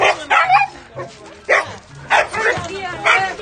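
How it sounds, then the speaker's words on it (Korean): A husky dog barks in repeated loud, close bursts, with people talking over and between the barks. "큰 것은 원래 이렇게 짖는 거 아니에요?"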